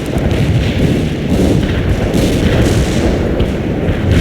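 An artillery barrage strikes during a military video game mission, a dense, loud, continuous rumble of overlapping deep booms and thuds that keeps up without pause.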